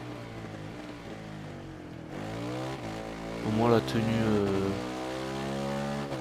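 A motorcycle engine in the racing video game Ride 3 drones and climbs in pitch as the bike accelerates, with a sharp rev surge midway, while someone talks over the game sound.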